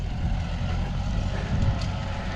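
Low, steady engine rumble of a Kubota L4708 wheeled tractor on high wheels moving between crop rows, continuous and fairly close, with no talking.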